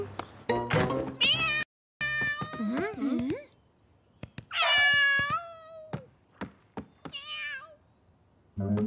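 A cat meows repeatedly in clear, close, drawn-out calls with rising and falling pitch, several separate yowls spaced across the moment, with soft knocks between them.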